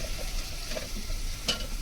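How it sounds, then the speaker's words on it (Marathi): Onions frying while a spoon stirs them, giving a steady sizzle with a brief scrape of the spoon near the end, close and fairly loud. "कांद्याला हलवूया चमचा बिमचा सगळं हत्यार"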